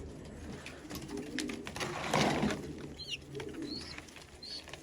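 Old-breed purple Istanbul pigeons coo softly and repeatedly in a coop, with a few brief chirps and light rustling over a steady low background.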